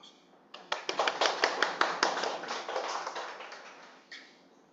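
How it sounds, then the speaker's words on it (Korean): A church congregation claps, starting with a burst of distinct, fairly rhythmic hand claps that blur into a fuller round of applause and then taper off over a few seconds. "하나님께 박수."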